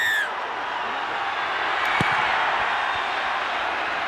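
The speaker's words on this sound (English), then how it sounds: "And listen to this crowd." A big crowd roars steadily at a rugby league match in pouring rain at Leichhardt, the broad wash of noise holding level and fairly loud the whole time, with a single brief thump near the middle.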